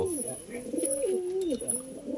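Kalduma pigeons cooing nearby, soft throaty rolling calls repeating one after another, fairly quiet against a faint background.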